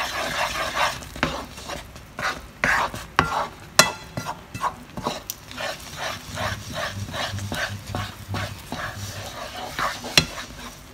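Homemade espasol, a thick sticky rice-flour sweet, is stirred with a spatula in a pan, giving repeated scraping and slapping strokes in a steady rhythm, close and fairly loud, with some faint background noise.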